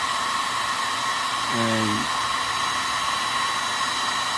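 A hair dryer aimed upward at a painted carved wooden bird hums as a steady, loud whine throughout, while a brief voice cuts in midway.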